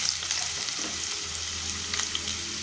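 Garlic and dried chilli pieces frying in oil for a quick pickle tempering give a close, steady, crackling sizzle that stays even throughout, with no voices over it.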